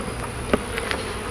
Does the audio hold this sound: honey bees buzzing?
yes